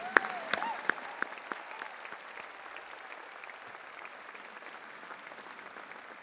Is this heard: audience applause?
yes